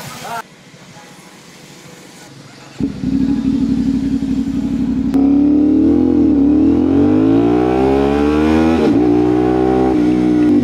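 Kawasaki Z1000R sports motorcycle engine running while ridden, a steady idle-like drone rising into a loud revving, accelerating roar with shifting pitch, close and continuous, with talk heard under the engine noise.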